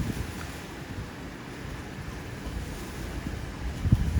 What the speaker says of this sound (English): now it's very windy. That's why you might be hearing lots of noise in the background.